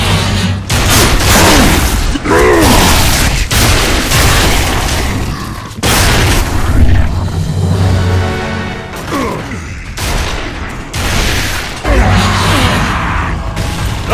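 Heavy grenade blasts and gunfire in a Gears of War clan match, booming explosions repeating several times over a dense, loud battle din.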